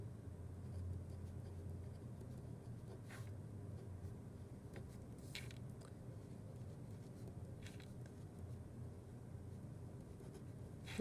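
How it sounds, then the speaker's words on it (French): Pen writing a formula by hand on paper, a steady soft scratching that runs continuously, quiet and close, over a low background rumble. "je vais écrire ma formule"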